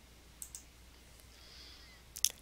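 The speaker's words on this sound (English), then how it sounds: "they just click post to the forum" A couple of faint, quiet mouse clicks when posting to an online discussion forum, brief and sparse against near silence.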